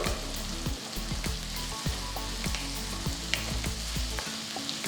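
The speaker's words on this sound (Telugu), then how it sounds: "ఉల్లిపాయలు కొద్దిగా రంగు మారేంత వరకు బాగా సాటే చేయాలన్నమాట" Onions and halved green chillies sizzle and fry steadily in a pan for a tomato egg curry, with a loud continuous crackle and intermittent stirring scrapes, and no talking.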